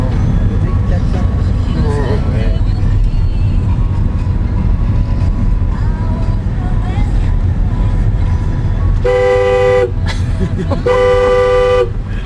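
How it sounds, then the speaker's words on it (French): On a road in France in 2009, a car horn sounds two loud, sustained blasts near the end, over steady vehicle and road noise. "L'avertisseur sonore obligatoire."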